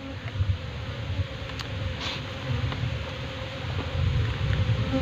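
Honeybees buzz steadily around a hive at a bee farm, a dense continuous drone close to the microphone with a few louder individual passes.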